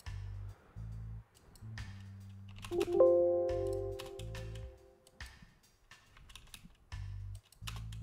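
Someone types on a computer keyboard in short bursts of close, light clicking keystrokes, with pauses between runs and a low background hum that switches on and off.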